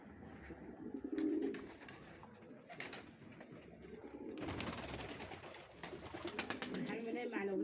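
Pigeons coo softly in a rooftop loft, low repeated burbling calls over light background noise, with a person talking nearby at times.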